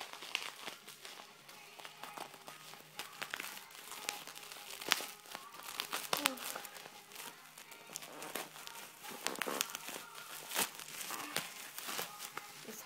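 Crinkly plastic wrapping on a Gmarket parcel crackles and rustles in irregular close bursts, quiet overall, with occasional sharper crunches as it is pulled open and no speech over it.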